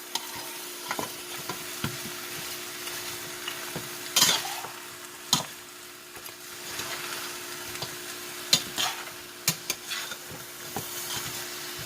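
Pork bones being stirred in a metal pot for sinigang, giving a low steady background with several sharp scraping, clinking strokes spread unevenly across the stretch; no talking.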